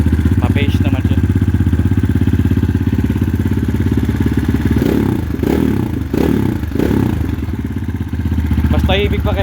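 A Kawasaki KLX 150 motorcycle fitted with a budget Indonesian aftermarket exhaust pipe revs loudly up close, its engine rising and falling in a few throttle blips over a steady idle, with a voice briefly heard.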